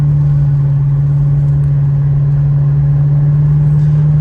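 A 1983 Mercedes-Benz 500SEL's engine runs loud and close with a constant deep tonal hum, holding steady throughout with no voices.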